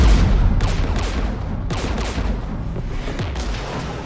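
Dense gunfire from a Mass Effect 3 battle against the Geth, with overlapping shots and booming impacts crackling continuously and loudly throughout, no voices.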